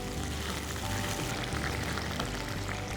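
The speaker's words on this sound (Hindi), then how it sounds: "अब हम इसमें डालेंगे ये जिंजर गार्लिक पेस्ट।" Ginger garlic paste hits hot oil with a little water already in the pan while cooking aloo nazakat, giving a steady, close sizzle and frying hiss that runs unbroken throughout.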